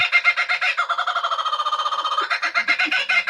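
A bird sound effect played from a soundboard, a rapid rhythmic electronic-sounding trill and warble that is loud and close, with no talk over it.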